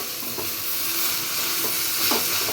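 Whole spices, cinnamon, cardamom and cloves, sizzling in hot oil for chicken biryani masala, a steady close frying hiss with light stirring scrapes.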